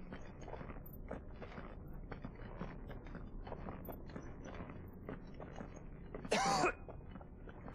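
Joshua, a character in the video game Final Fantasy XVI, gives a few soft, throaty coughs over quiet background ambience, followed by a brief louder burst of noise near the end.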